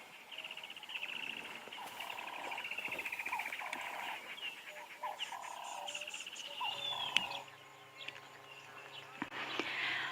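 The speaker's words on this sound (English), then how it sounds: "we could hear the crested barbet trilling and trilling and trilling, telling the world this is its territory" A crested barbet gives a long, sustained trill from nearby in the bush at sunrise, repeated in extended bursts over quiet ambient birdsong and soft insect sounds.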